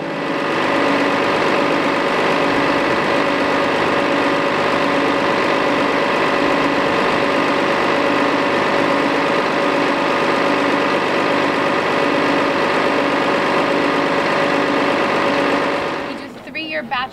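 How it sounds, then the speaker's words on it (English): A new bus engine idles with a smooth, steady, loud mid-pitched hum that runs without a break and fades at the very end. "listen to the hum of this smooth engine."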